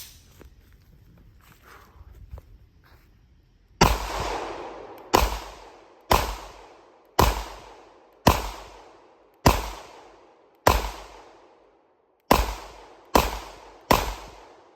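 A Springfield Armory Hellcat pistol fires through a magazine: nine sharp, loud reports with short ringing tails, spaced irregularly about a second apart, after a few quiet seconds of faint handling noise.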